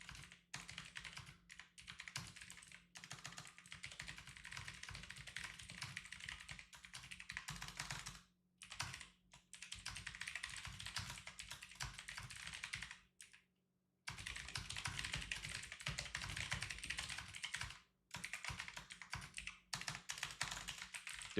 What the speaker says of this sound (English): I'm just typing this real quick.